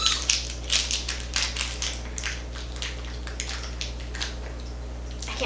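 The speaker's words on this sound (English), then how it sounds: "Cut off part of the toffee there." Banana toffee being cut with scissors, a run of close, crisp snipping and crunching cuts in uneven rhythm over a steady low hum.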